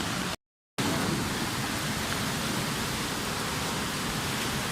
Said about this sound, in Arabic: اليوم يعتبر عندنا عاصفة رعدية.